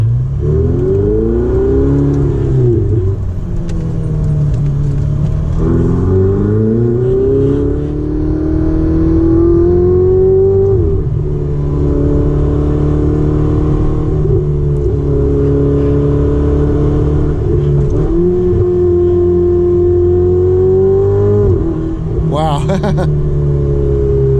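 A Ferrari 488 Spider engine climbing through the revs on a drive, rising tones sweeping up repeatedly with brief dips at gear changes, loud and close, while someone talks over it.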